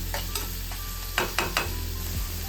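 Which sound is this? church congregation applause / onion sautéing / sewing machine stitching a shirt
onion sautéing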